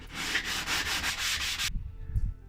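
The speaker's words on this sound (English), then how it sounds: "Once the entire slate has got to this light grey, we can move on to the finer sandpaper." Sandpaper rubbing over a slate coaster in quick, even back-and-forth strokes, a loud gritty scrape that stops abruptly, followed by a few soft handling knocks.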